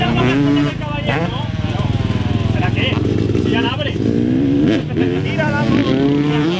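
A motorcycle engine buzzes loudly and continuously nearby at a riding park, its pitch wavering as it revs, while people talk over it.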